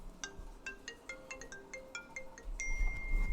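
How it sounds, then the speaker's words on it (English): A phone ringtone plays a bright repeating melodic pattern for an incoming call, clear and fairly close, with rising background noise toward the end. "we got Montana calling me"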